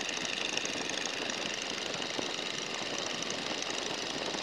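A small airplane engine drones steadily at a constant pitch around 1,500 RPM, close and continuous, with no voices over it.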